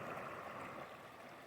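Rock Creek flowing, a steady, soft rushing of water that stays even and fairly faint throughout the short stretch, with no voices.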